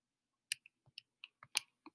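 Button presses on a graphing calculator while opening apps, a handful of sharp, separate clicks at an uneven pace, quiet and close with no talking.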